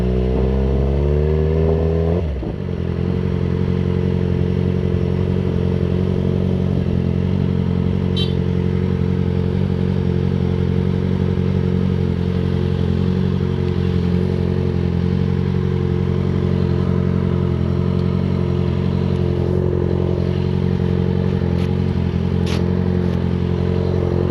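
Motorcycles at a Yamaha ride event produce a continuous, loud, close engine drone that holds steady for the whole stretch after a brief rising rev at the start, with faint clatter and no voices.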